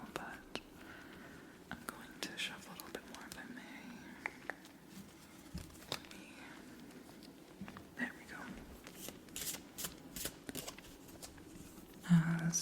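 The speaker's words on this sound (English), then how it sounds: "as we shuffle the deck" Soft, quiet riffling and shuffling of tarot cards in a few bursts against a hushed background, with faint whispery sounds now and then.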